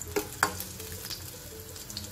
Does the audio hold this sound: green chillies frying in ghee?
yes